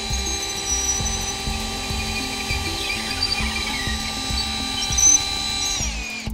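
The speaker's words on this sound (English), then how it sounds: "Drill all the way through." A drill bores straight through a wall, held in line by an alignment jig during a through-wall system installation. It gives a loud, continuous motor whine with a steady rhythmic churn underneath, and it winds down at the end with no talk.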